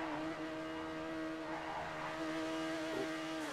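Overflod Entity MT supercar in GTA 5 holding a steady, whiny engine drone with a vacuum-like tone, a sustained even pitch running throughout with a slight swell near the end, loud and without talk.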